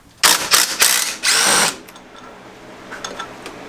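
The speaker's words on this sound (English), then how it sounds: "you're going to take all these bolts off in order to get this cross member off" A power tool, likely an impact gun, rattles in several loud bursts while removing the cross member bolts from a Mitsubishi Galant with a 4G64 engine during a manual transmission swap, followed by quieter clinks and faint shop noise.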